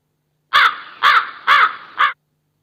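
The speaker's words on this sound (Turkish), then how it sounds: "Burada ise karga sesi var." A crow caws four times in quick succession, loud and close, each harsh call evenly spaced, with silence before and after; a sound effect played from a Derrica Midex Oxid V8 sound card mixer.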